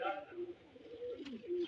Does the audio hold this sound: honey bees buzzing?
no